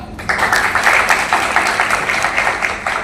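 An audience applauds steadily to welcome the president at an educational event in Lucknow, the dense clapping filling the room for about three seconds without a break.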